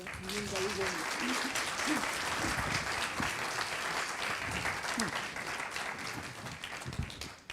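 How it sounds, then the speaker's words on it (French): A live audience at an economic-transition talk in Bordeaux bursts into sustained applause and clapping, a dense steady roar that fills the whole stretch, with a few voices and cheers mixed in. "je vous demande de lui faire une ovation"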